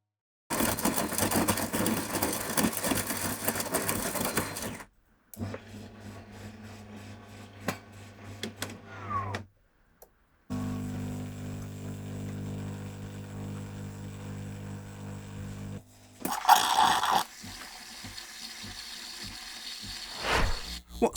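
A De'Longhi Eletta Explore coffee machine runs through its cycle with a steady mechanical hum and pumping buzz, broken by short pauses and a louder grinding burst near the end.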